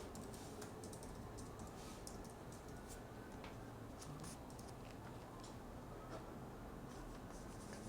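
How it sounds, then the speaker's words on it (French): Soft keystrokes on a computer keyboard as a search is typed into Google Maps, quiet scattered clicks over a steady low background hum, with no voice. "Je peux taper salle de sport."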